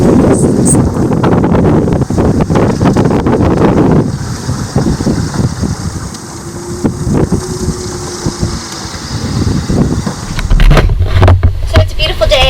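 Wind buffets a sailboat at sea during an ocean crossing, a steady loud rushing roar over the microphone with gusty fluctuations and water noise, while people talk on and off beneath it.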